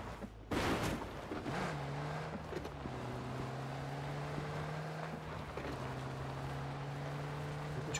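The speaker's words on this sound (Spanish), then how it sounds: "Escucha un coche, ¿eh?" Car engine in the video game PUBG, a steady droning hum with a rising and falling tone that holds for several seconds at moderate distance over quiet background noise.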